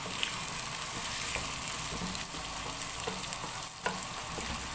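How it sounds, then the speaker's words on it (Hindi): Vegetables for pulao fry over a medium flame, giving a steady, moderately quiet sizzle with occasional soft stirring scrapes and one small knock. "मीडियम फ्लेम पर ही अब थोड़ी देर के लिए इनको जो है वो हम भून लेंगे।"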